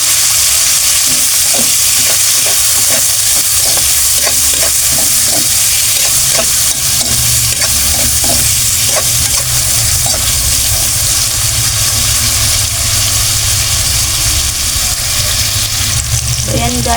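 Tomatoes sauté in a pan for a mixed vegetable dish, a loud constant sizzle under repeated scraping and stirring strokes of a utensil, close by, with no one speaking.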